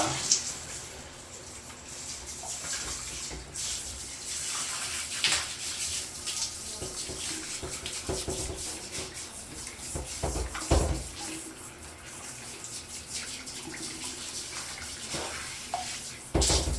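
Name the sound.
rinsing a bathroom sink with a shower head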